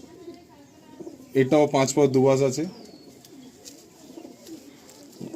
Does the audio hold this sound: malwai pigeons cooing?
yes